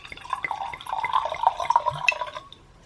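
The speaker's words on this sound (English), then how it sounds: "So it is a white wine, as you can see. Pour this." White wine, a 2012 Terre Rouge "Enigma", pours into a glass as a close, light trickle with small splashy drips lasting a couple of seconds before it stops.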